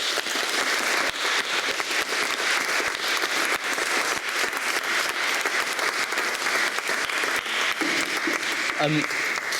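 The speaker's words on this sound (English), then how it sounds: "Could we please give our paper speakers one last round of applause?" An audience at a Cambridge Union debate on free speech gives a sustained round of applause, dense and steady for several seconds, with a voice briefly heard near the end.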